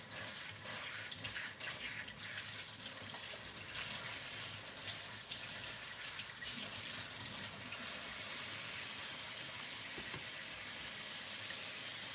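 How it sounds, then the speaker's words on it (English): Cold tap water runs steadily over frozen seafood in a kitchen sink to thaw it, a soft continuous splashing hiss, quiet and unbroken with no talking. "the way you're supposed to thaw out basically anything is to run it under, not even lukewarm, but cold water"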